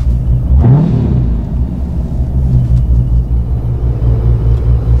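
A car with a 426 HEMI engine drives home at a steady cruise, its deep, loud rumble briefly climbing as the revs rise early on, then settling into a continuous close drone.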